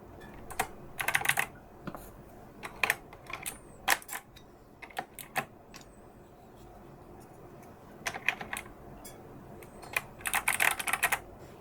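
Keys clatter on an 8BitDo Sega Saturn retro mechanical keyboard in close, irregular bursts of rapid clicking separated by short pauses, with no voices.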